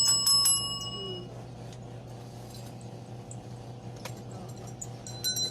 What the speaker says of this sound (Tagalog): Meron din po kaming call bell.